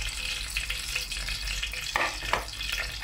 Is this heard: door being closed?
no